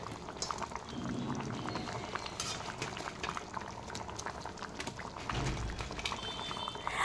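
A pot of potato curry with fried masoor dal fritters simmers and bubbles steadily at close range, a continuous wet boiling texture with occasional faint clinks of a utensil.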